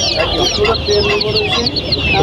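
Several desi chickens cluck and squawk close by at a fancy poultry market, a busy overlapping chorus of calls that continues without a break.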